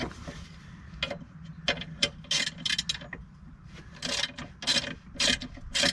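A big crescent wrench working loose the control arm hardware on a Jeep WJ during a long arm swap, giving close bursts of rasping, ratcheting metal scrapes in an uneven rhythm.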